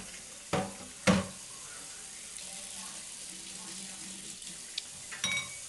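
Hot water runs from a tap while plastic eyeglasses are rinsed under it, a soft continuous splashing with a few sharper clunks and knocks near the start and end.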